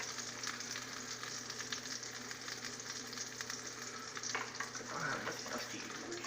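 Hot oil sizzles steadily in a pot on the stove, a close, even crackling hiss with a faint metallic scrape near the end.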